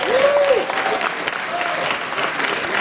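Crowd applauding two boxers at a weigh-in, steady clapping and cheering filling the room, with a brief whistle near the start.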